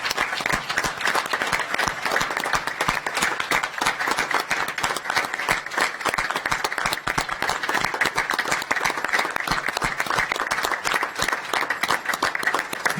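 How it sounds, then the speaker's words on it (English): Sustained applause fills a council chamber in honour of General McGee: dense, steady clapping from many hands throughout, fairly loud and close, with no talk over it. "Please join me in giving a rounding sound of applause to General McGee."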